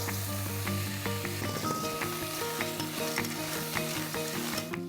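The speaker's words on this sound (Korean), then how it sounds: "바지락 넣고 볶을게요." Clams stir-fried in a hot pan with spicy aromatics, giving a continuous close sizzle broken by scraping stirs and the light clatter of shells knocking against the pan.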